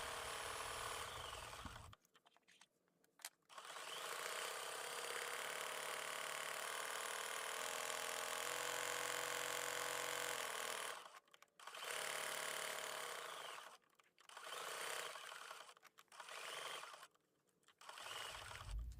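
A sewing machine stitches down an appliqué handle on a quilt block in burgundy and gray fabric. Long runs of rapid, even whirring are broken by several short pauses, close and without speech.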